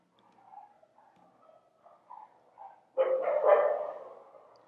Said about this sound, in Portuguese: Vocês estão ouvindo minha cachorra?